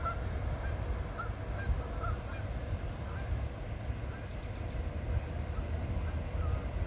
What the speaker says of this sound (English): And some geese friends that are going to show up for us.